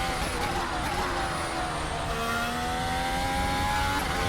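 A Mercedes W11 Formula 1 car in a racing video game holds a high, steady engine whine with shifting harmonics, loud and continuous throughout, with no talk.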